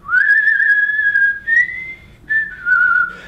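A person whistles a sustained, wavering melody up close, with a few short breaks between phrases and no talking.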